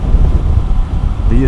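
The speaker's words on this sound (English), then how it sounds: "There is some wind at the moment, just blowing in from the right side of me." Wind pushes past a motorcycle rider behind a Puig touring windshield, a loud, continuous low rumble of buffeting air throughout, with a brief voice right at the end.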